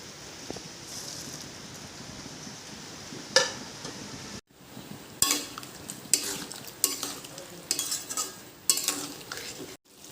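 Prawns go into a pan of simmering liquid for a jackfruit and prawn dish, with a low bubbling and faint sizzle under intermittent clinks and scrapes of a spoon against the pan.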